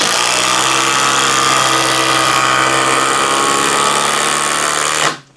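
Flex 8-inch power tool running a driving test, a loud continuous whirring drone holding steady for about five seconds before winding down abruptly at the end, no talk.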